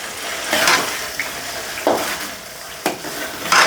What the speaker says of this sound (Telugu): చింతపండు గుజ్జు ఇవి నూనెలో మళ్ళీ ఉడికించుకోవాలి